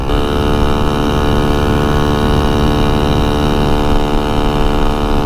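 A turbocharged 125cc Honda Grom motorcycle engine runs steadily and loud, a dense buzzing drone with even harmonics that holds without a break for several seconds.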